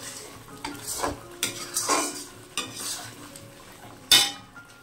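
Chicken gravy for a chicken rezala is stirred and fried in a pan. A spoon scrapes the pan in repeated strokes over a soft sizzle, with a sharp metal clang near the end. No one speaks.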